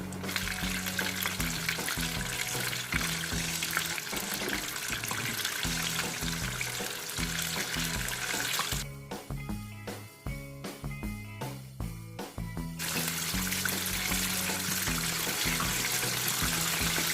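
Chicken pieces deep-frying for extra-crispy fried chicken, a steady dense sizzle of hot oil running throughout, thinning briefly midway into crackling pops before the full hiss returns, close and alone with no talk.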